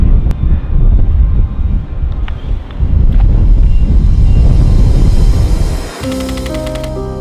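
Strong, continuous wind on a Mount Everest glacier roars and buffets against the microphone with low rumbling gusts, dropping briefly near the end before a faint tonal hum appears.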